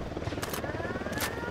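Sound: helicopter approaching in the video game Ghost Recon Wildlands

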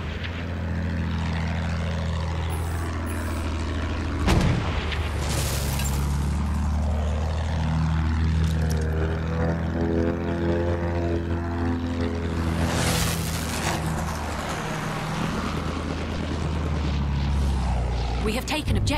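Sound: WWI propeller plane flying overhead, from video game Battlefield 1

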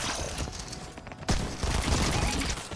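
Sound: SMG gunfire in Fortnite video game

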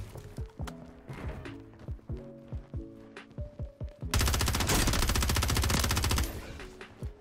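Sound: gunfire in video game Call of Duty MW3

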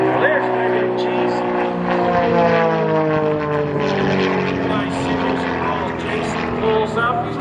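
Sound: Pitts stunt plane flying an aerobatic maneuver

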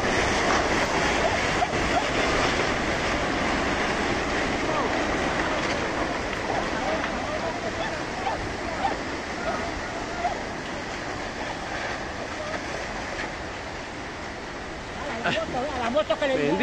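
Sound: flash flood water rushing over houses

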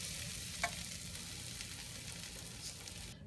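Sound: stirring banana fry with coconut powder in a pan

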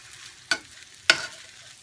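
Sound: shrimp fried rice sizzling in a pan while stirred

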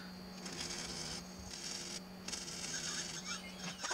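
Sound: air-powered wire brush cleaning welds

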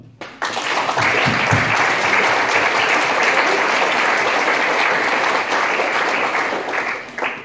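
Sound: audience applause at a short film festival

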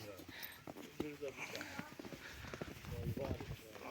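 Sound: draft mare walking, hooves clip-clopping

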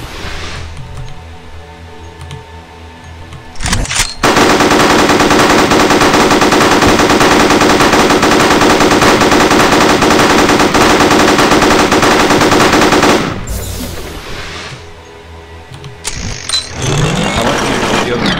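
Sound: double minigun firing in the video game Starforge

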